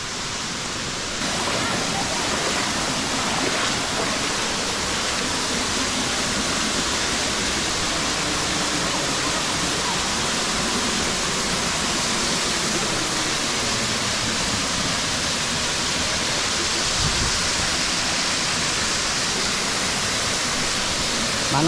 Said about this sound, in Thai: เดี๋ยวเราจะไปที่ข้างในน้ำตกกันดูนะครับ